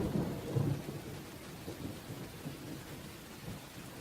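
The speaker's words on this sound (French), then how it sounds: "Forcément, il ne manqua pas de pleuvoir et l'orage était de la partie" A thunderstorm in the Sims 4 video game: deep rumbles of thunder roll beneath steady rain pattering on surfaces, the low booms strongest at the start and fading into a constant wash of rainfall.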